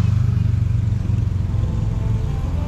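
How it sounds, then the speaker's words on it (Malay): A car drives up through a large open parking area beside a shopping mall at a night market, its engine a steady close low rumble and whir for the whole stretch, with no talking. "Tu ada kereta naik"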